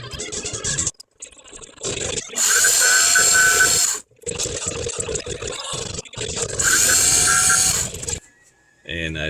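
A small drill bores and taps an M3 thread into an aluminum steering horn for a Traxxas E-Maxx RC truck. Two loud, high whining bursts are separated by quieter handling noises and clicks, close up.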